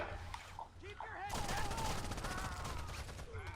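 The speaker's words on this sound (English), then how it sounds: "They're shooting over there." Distant rapid gunfire crackles in Rainbow Six Siege, bursts of automatic shots starting about a third of the way in and continuing steadily under game ambience with a voice partly audible.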